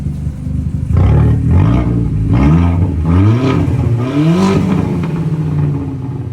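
An Audi A4 with a turbocharged engine and its muffler deleted revs in repeated rising bursts. The exhaust sounds loud and close, with a roaring, droning tone between the blips.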